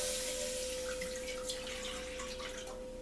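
Two cups of water poured from a cup into a pot while making cranberry sauce, a steady close splashing trickle lasting about three seconds over a faint constant hum, with no talking.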